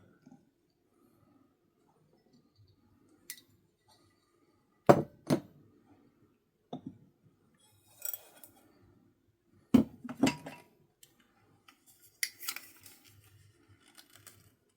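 Glass bowls and a drinking glass clink and knock sharply as they are handled and set down on a surface, in scattered bursts separated by quiet pauses, close and clear.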